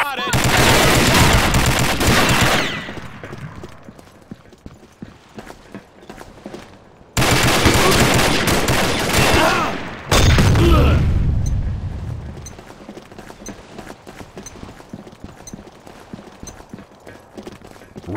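Combat Arms match with loud bursts of gunfire in three clusters. A deep grenade blast hits in the third burst, and quieter scattered shots follow in between.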